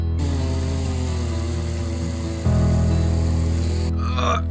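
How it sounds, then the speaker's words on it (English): A loud, steady two-stroke chainsaw engine drone cutting a hedge runs throughout, stepping up in pitch and intensity midway, then cutting off abruptly near the end. "You little chainsaw are going to have some serious work today."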